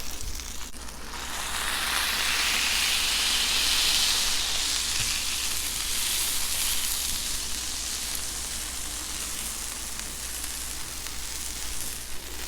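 A smashed beef patty seasoned with salt and pepper sizzles steadily on a hot Blackstone griddle, a loud, continuous close-up hiss that swells after a couple of seconds and holds evenly to the end with no talking.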